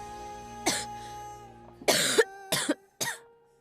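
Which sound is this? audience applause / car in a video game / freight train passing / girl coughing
girl coughing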